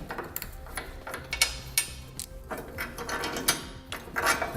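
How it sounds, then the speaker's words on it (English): An 18mm socket on a ratchet wrench removes tow hook bolts from a 2015 Chevrolet, giving close, rapid clicking and mechanical rattling in quick irregular runs with no talking. "Next, we're going to take an 18mm socket. Remove these 2 bolts here."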